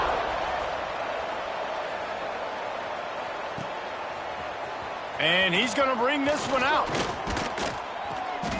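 Stadium crowd at a Clemson vs Boston College football game, buzzing after a score as the teams line up for the kickoff; a loud, steady crowd roar runs throughout while an announcer talks over it in the second half.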